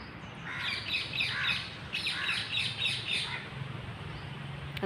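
Outdoors near a temple, a parrot squawks among chirping sparrows in repeated bursts of fairly faint, distant calls over low background noise.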